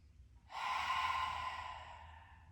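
Close, steady breath drawn in and slowly released while a person holds a stacked body position, a soft airy rush that swells then tapers over a couple of seconds with no talking.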